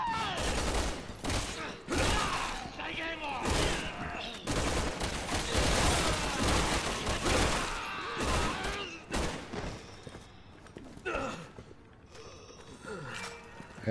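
Gunfire in Resident Evil 6 on professional difficulty, with dense bursts of shots and loud combat noise crowding together near and continuous, while players' voices come and go through the fighting.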